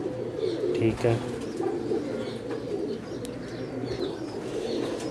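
Teddy pigeons coo softly nearby in a low, rolling murmur amid birdcage background noise, with someone speaking briefly.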